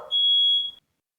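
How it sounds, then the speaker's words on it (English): A smoke alarm gives one steady high electronic beep of under a second, clear and fairly close, before the clip falls silent. "fire alarm goes off apparently too."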